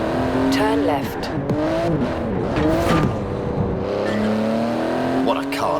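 A 3.8-litre twin-turbo flat-six, 700-horsepower car in Forza Horizon 4 revs and shifts through gears continuously, harmonic whine rising and falling, with brief tire squeals, close and loud throughout.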